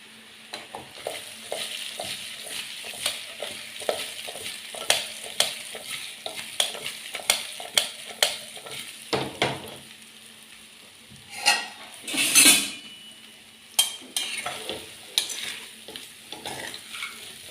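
A spoon stirs sugar into a muthiya mixture in a pan, scraping and clinking in a fairly regular rhythm over a soft sizzle. A louder burst of scraping comes near the end, and there is no talk.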